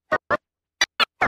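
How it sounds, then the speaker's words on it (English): DJ chirp scratches on a turntable, five short sharp swishes in quick pairs and then a spaced run, loud, close and isolated with silence between them. "we're just gonna give ourselves a couple of chirp scratches."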